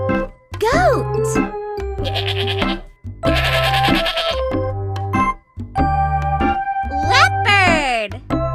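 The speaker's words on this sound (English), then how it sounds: "Goat." Bleating goat or sheep calls over a lively children's nursery tune with a child singing, the quavering cries rising near the start and again near the end.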